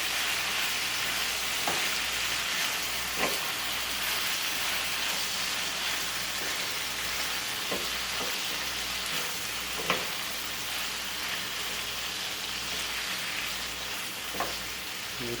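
Spicy red hot salsa ingredients caramelizing in a pan give a steady loud sizzle and frying hiss, with occasional soft stirring knocks and pops, close and continuous, no talking.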